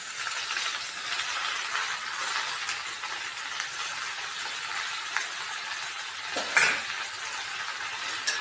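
Gongura leaves being stirred into rice in a hot pan just off the heat, giving a soft, steady sizzle with continuous stirring and a couple of brief clinks of the spoon against the pan near the end.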